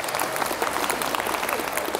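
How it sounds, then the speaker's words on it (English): A roomful of middle school students applauds at a talk about alcohol, tobacco and drug addiction: dense, steady clapping from the whole crowd, loud and continuous throughout. "Round of applause right there."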